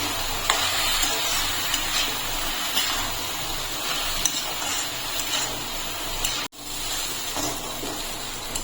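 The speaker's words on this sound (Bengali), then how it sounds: "এখন চালটা দিয়ে একটু কষিয়ে নিতে হবে।" Drained, pre-soaked rice stir-fried in a pan for egg pulao, a steady close sizzle with faint scraping and stirring clicks, briefly cut off by a sudden dropout near the end.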